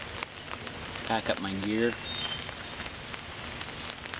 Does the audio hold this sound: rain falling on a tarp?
yes